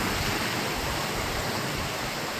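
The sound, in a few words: waterfall in a canyon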